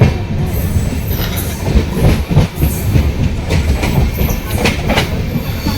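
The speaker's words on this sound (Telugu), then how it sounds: "ఈ ట్రైన్ అయితే చాలా ఫాస్ట్గా అయితే వెళ్తుంది." A fast LHB passenger train races past near Pithapuram, its coaches producing a loud, steady rumble with rapid clickety-clack wheel beats and brief metallic squeals, close by and with no voices.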